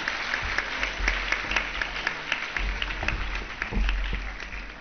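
Students at a school ceremony honoring high achievers get a round of applause, with dense steady clapping from an audience close by and a low hum beneath.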